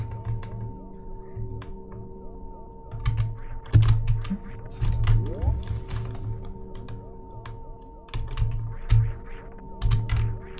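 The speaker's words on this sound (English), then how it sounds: "this is, of course, on keyboard controls" Computer keyboard keys clatter during a Super Metroid speedrun played on keyboard controls, with irregular bursts of rapid clicks and taps over the game's steady tones and music.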